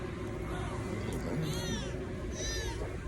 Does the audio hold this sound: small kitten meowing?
yes